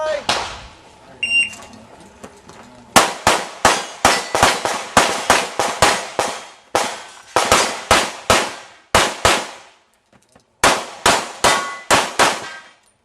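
Rapid volleys of pistol shots at an IPSC World Shoot competition, loud sharp cracks fired in fast strings with brief pauses between bursts, preceded by a short stretch of quieter range noise.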